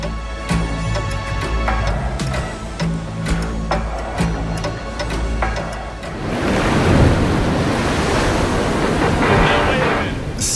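Ocean waves and wind on the coast of Ouessant, Brittany, in February: a steady broadband roar of surf and gusting wind that swells and stays loud through the second half, following an earlier stretch with tonal sound in the background.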